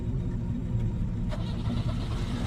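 A car engine revs hard to drive a man named Tom away, a loud, steady mid-range roar that holds throughout with a brief surge near the middle.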